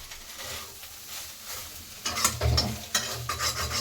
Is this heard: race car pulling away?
no